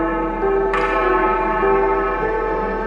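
A single resonant bell strike rings out in a haunted mansion story, a clear metallic tone with a sharp attack that lingers and slowly decays over a low steady drone.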